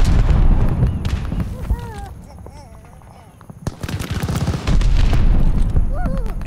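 Call of Duty Vanguard multiplayer battle: glide bomb strike explosions mixed with heavy machine-gun bursts and booming impacts, loud and continuous, easing briefly mid-way before surging again, with voices speaking over the din.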